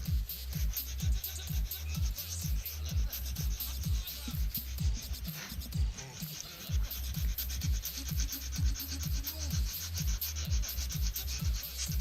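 Hand sanding a 3D printed diorama part with 400 grit paper and a 100 grit sanding stick, a close, continuous rhythm of rasping back-and-forth strokes, roughly two per second.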